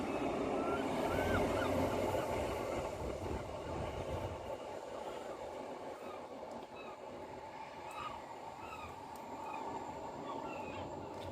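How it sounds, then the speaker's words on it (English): Delayed passenger train on the Manchester Airport to Barrow in Furness service passing steadily, a loud broad rumble early that eases into a continuous rolling roar with faint squeals, no talk. "Train passing now is the delayed 1751 Manchester Airport to Barrow in Furness, working 1 Charlie 56"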